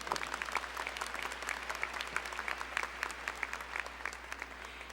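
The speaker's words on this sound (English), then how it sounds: "give yourselves a round of applause" Graduates and their families applaud at a college commencement ceremony, dense and sustained clapping from a large crowd that holds at an even level across the whole stretch, with no voices over it.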